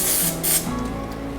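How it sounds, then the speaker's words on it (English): Non-stick cooking spray hisses from an aerosol can onto metal muffin tins, two short bursts close by, with a low background hum underneath. "You're going to spray your muffin tins with non-stick cooking spray."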